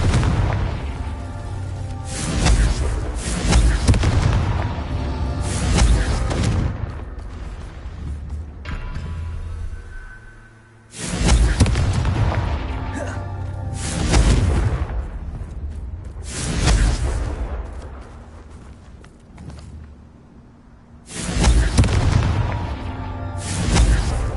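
Confringo fire-blasting curse explosions in a Harry Potter video game: three loud, booming blasts, each with a whooshing burst and rumbling decay, separated by brief lulls.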